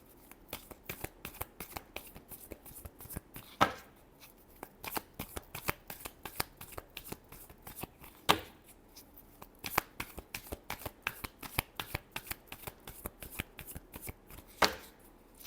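Tarot cards shuffled by hand in a fast, steady run of crisp riffling snaps, close and fairly quiet, with a few louder slaps as the deck is squared, and no voices.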